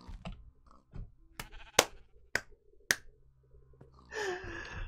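Sheep bleating in the Minecraft video game, short bleats mixed with sharp clicking taps, quiet and sparse, ending in a longer wavering bleat.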